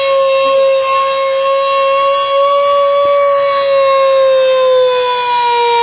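A civil defence siren wails loudly and steadily throughout a district administration mock drill on Girls' Road in Lakhimpur, its sustained tone holding with only slight drift and no talking.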